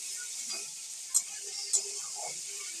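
Potatoes frying with turmeric in a pan give a quiet, steady sizzle under gentle stirring, broken by two brief clicks of the spatula against the pan.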